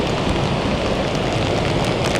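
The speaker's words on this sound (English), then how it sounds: "we are getting really wet because it's nice and rainy now" Heavy rain pours down on the open deck of a cruise ship at sea, a dense, loud, steady patter of drops close by that continues without pause.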